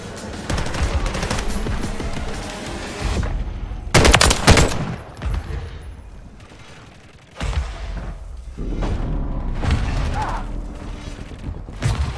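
Call of Duty: Modern Warfare 3 Zombies gunfire rattles in long automatic bursts with mechanical clatter, broken by a sharp loud blast midway and a brief lull before the shooting resumes.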